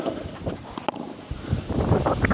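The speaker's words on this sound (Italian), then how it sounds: "Poi c'è il vento che sicuramente non aiuta." Gusty wind rumbles and buffets the microphone in uneven bursts, growing stronger toward the end.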